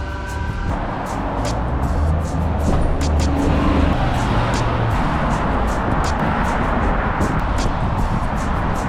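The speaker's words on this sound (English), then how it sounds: "I'm surrounded by traffic." City car traffic passing on busy streets in Calgary, a steady loud roar of engines and tires with repeated passing swells, no talk.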